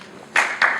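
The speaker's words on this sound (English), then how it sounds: "first I want to give a round of applause for the gentleman that came up first" A small audience claps in two short bursts, close and fairly loud, the second starting just after the first fades.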